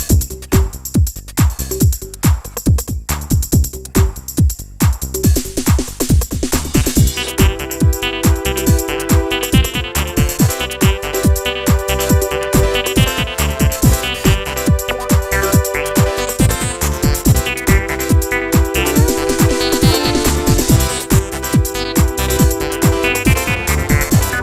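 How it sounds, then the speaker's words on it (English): A 1997 Roland MC-303 Groovebox plays a demo pattern: punchy electronic drums open alone, then synth bass and chords join in a steady, loud dance groove that runs continuously throughout. "This is the sound of the MC-303."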